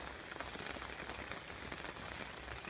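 Steady heavy rain drums on a tarp stretched overhead at a wet campsite, a dense, continuous close patter with no voices.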